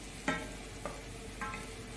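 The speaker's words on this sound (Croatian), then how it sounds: "Rižu isto pržimo" Rice and onion frying in a pan produce a soft continuous sizzle, broken by three brief scraping stirs spaced evenly apart.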